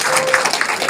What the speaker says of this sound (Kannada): ಒಂದು ಜೋರಾದ ಚಪ್ಪಾಳೆ ಬರಲಿ ಬಂದಿದೆ.